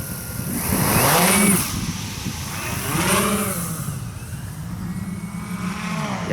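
A BEAST class racing quadcopter drone's motors spool up and it flies, with loud, whining motor pitch rising and falling in repeated swoops against steady rushing outdoor noise.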